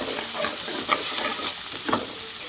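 Curry leaves and other ingredients frying in a pan, a continuous close sizzle broken by a few soft scrapes and taps from stirring.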